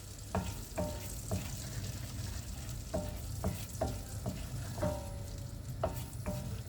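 Oil heating and frying in a pan for chicken bulgur pilaf, giving a continuous close sizzle with regular spoon stirs and taps against the pan.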